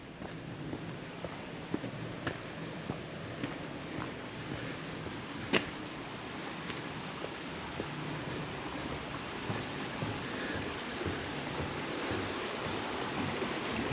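A stream flows under a bridge toward Dyserth waterfall on an autumn day, giving a steady broadband rush of water that stays even throughout, with a few faint clicks and one brief sharper knock partway through.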